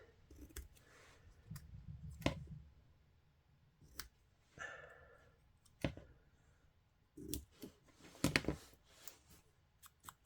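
Scissors snip out a paper piece for a papercraft index card, a series of quiet, close cuts and clicks arriving in irregular bursts with pauses between them.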